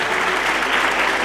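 A church congregation applauds together during a Lent Sunday homily, a steady, dense clatter of many hands filling the space for just over a second without any voices.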